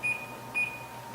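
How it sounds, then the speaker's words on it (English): Kitchen timer set for baking a pumpkin chocolate cheesecake, two short bright electronic beeps about half a second apart over a quiet room hum. "I'm going to set my timer."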